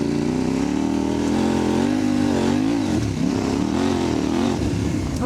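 A CFMOTO 800MTX adventure motorcycle ridden on a rough dirt track, its engine droning loud and close with rising and falling revs throughout, no speech over it.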